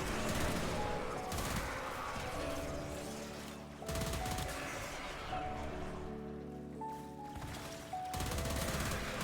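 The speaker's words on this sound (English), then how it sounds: "Instead, I just shoot it with the Latent." Gunfire from the Latent gun in the video game Warframe, a loud, dense fusillade of rapid shots with a couple of brief pauses, mixed with other game sounds.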